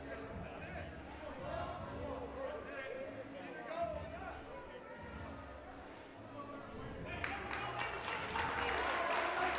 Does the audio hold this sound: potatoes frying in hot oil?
no